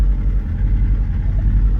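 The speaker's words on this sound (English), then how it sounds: "if you guys hear that noise on the engine, it's really okay though" A Subaru engine with noisy cylinder heads runs close by with a loud, steady, rumbling idle and no pauses.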